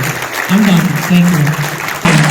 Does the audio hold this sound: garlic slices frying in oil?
no